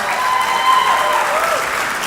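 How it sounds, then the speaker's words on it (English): Wedding reception guests applaud steadily after a roast toast, a continuous wash of clapping from a crowded hall with a faint tonal hum running under it. "Come on, let's give a big round of applause,"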